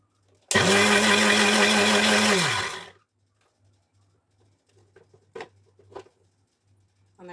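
A mixer grinder whirs loudly for about two seconds while grinding beetroot with a handful of coconut, then stops abruptly, followed by quiet clicks and light clinks.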